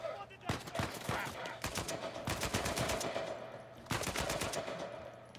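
Assault rifle gunfire in the Uncharted 4 video game, with rapid bursts of automatic shots crackling in several sustained volleys, loud and dense, starting about half a second in and again near the four-second mark.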